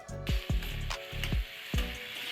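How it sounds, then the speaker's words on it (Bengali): Tomatoes and onions frying in a pan for a Bengali fish, potato and rice dish, a steady sizzle broken by several sharp, close knocks of a spatula stirring against the pan. "টমেটো পেঁয়াজ ভালো করে ভেজে নিব।"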